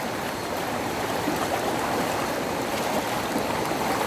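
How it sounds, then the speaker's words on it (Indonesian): Swift river current rushing steadily during a night crossing toward a cave near a waterfall, a dense, unbroken roar of churning water, loud and close, with no voices. "Kita menyeberangi arus sungai yang sangat deras"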